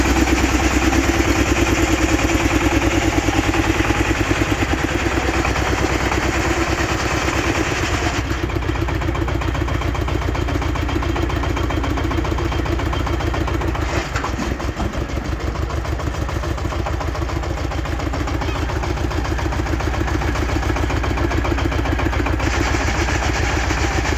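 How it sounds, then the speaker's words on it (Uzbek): A Zubr 4x4 mini tractor fitted with a two-body reversible rotary plough runs steadily at close range, its engine giving a loud, continuous clattering drone that stays nearly constant throughout. "Ikki korpus aylanma plugli mini traktorimiz."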